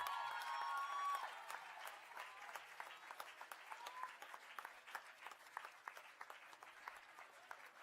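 Audience applause at a Model UN conference, steady clapping from a large room that runs throughout, fairly distant and even, with faint voices underneath.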